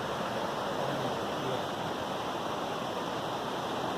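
A mountain waterfall on the Manimahesh Kailash pilgrimage route in the Himalayas roars in a steady, dense rush of falling water that fills the scene without a break.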